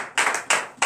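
Three short bursts of clapping from a church congregation at a morning prayer service, each a brief, bright cluster of handclaps with gaps between, fairly close and alone without voices.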